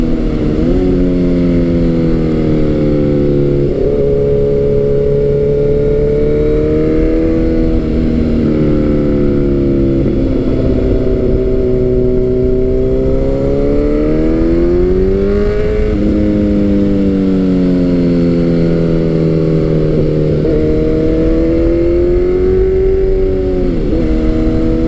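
A Kawasaki Z900 motorcycle revs up through its gears, the engine note climbing and briefly dropping at each smooth shift, loud and close throughout with no talking.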